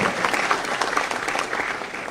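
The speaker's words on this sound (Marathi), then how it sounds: "यानंतर जोरदार टाळी" Steady applause from an audience at a political speech event in Maharashtra honoring minister Uday Samant, dense clapping filling the whole moment with a few brief voices mixed in.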